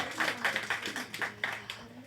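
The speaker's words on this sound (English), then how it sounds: "So let's give her a big round of applause." Audience applause at a compassionate leadership dialogue event, a short run of steady, fairly sparse clapping from a modest crowd, heard without speech.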